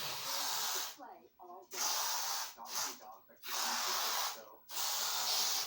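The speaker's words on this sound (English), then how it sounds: "When you spray around you, it changes the environment." Scented spray misted into the air, several broad hissing bursts of a second or so each, separated by short gaps, close and fairly soft.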